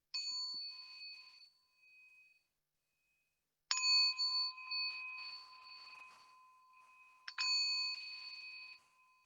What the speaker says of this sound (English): So just allow the bell